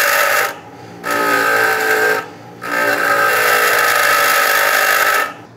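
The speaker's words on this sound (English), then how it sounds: "let's try to grind this down and see if we can get it to work" A power grinder grinds down a steel oil pump alignment tool for a GM L83/L86 engine, loud and steady in three bursts split by brief pauses, with no talking.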